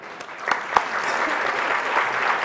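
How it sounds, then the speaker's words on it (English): An audience at a live charity gala keeps clapping steadily, a dense burst of applause with a few sharp individual claps standing out near the start. "This never works, it just keeps on clapping."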